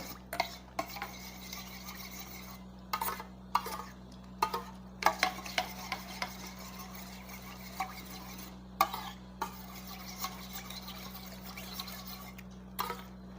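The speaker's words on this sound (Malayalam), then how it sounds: "ഇത് നമുക്ക് സ്പൂണിൽ തന്നെ മിക്സ് ചെയ്യാവുന്നതാണ്" A spoon stirring a homemade vitamin C serum in a small container, repeated light clinks and scrapes at an uneven pace, close and soft over a steady low hum.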